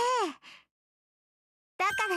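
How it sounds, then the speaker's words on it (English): A voice from the visual novel Fate/Stay Night gives a short, falling gasp of surprise with a breathy trail. After a brief silence her voice starts up again. "The girl gasps as if surprised."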